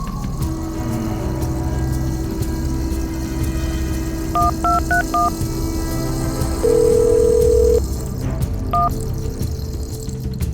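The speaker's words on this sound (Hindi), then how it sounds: "चोगले, अब्बू को फोन मिलाओ।" A telephone number is punched in on a keypad, a quick run of about eight key tones followed by a longer steady tone and one more beep, over a loud rumbling background.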